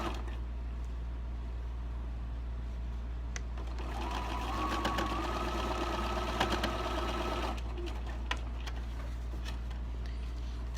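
Domestic sewing machine stitching fabric, a steady continuous whir running for several seconds mid-clip against a constant low hum, with faint clicks before and after.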